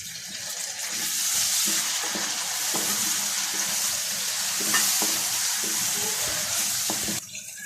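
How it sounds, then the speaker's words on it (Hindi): Loud steady sizzling of tomatoes and green chilies frying in a pan, with occasional stirring scrapes throughout. "अब हम टमाटर और हरी मिर्चें डाल देते हैं।"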